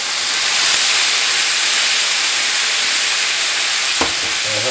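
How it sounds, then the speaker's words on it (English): W sauce hitting a hot pan of mushrooms, setting off a loud, steady, close sizzle and hiss that fills the whole stretch, with one brief clack near the end and no talking. "We're gonna go ahead and put some of this W sauce in here."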